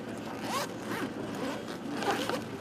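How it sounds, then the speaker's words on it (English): A costume's back zipper is pulled down in several rasping strokes, close and fairly loud, with short pauses between pulls and no voices over it. "And then this back will zip down."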